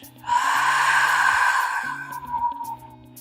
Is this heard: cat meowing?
no